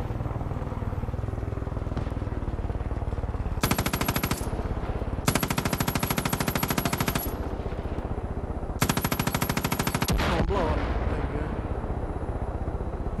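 Enemy machine-gun fire in the Far Cry 5 video game, three long rapid automatic bursts in quick succession, loud and close, over a low engine-like rumble.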